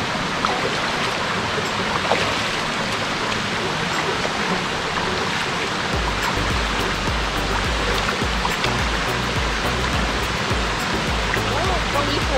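Clear water flowing along a stream in Lan Sang National Park, Tak, a steady broadband rush that continues for the whole stretch with a deeper low rumble joining partway through.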